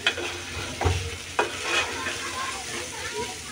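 Potato curry sizzling in hot oil with cumin paste as a spoon stirs it, a steady close frying hiss broken by a few sharp scrapes against the pan, with no talking.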